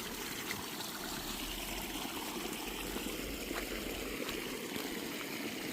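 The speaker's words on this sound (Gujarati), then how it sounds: "એક લાઈન તૂટે ગયેલ છે પાણી નીકળે." Water gushing out of a broken irrigation line in a farm field with the pump motor running, a steady continuous rushing and splashing stream, fairly close, with no talk.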